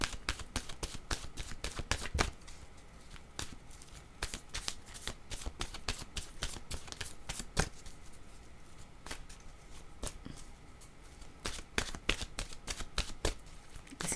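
Oracle cards shuffled by hand in a rapid run of crisp riffling slaps and flutters that repeat in uneven bursts for the whole span, close and clear, with no talking.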